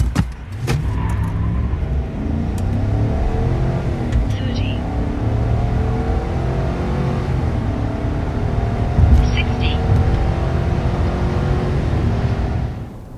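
A 2025 Chevy Silverado pickup with a 5.3L V8 and 10-speed transmission accelerates from inside the cab, its engine droning loud and steady while rising and shifting through gears, with a few faint clicks over the hum.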